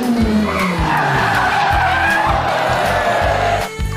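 A toy racing car skids in loud, continuous screeching bursts over a steady engine-like roar, lasting throughout with no voices.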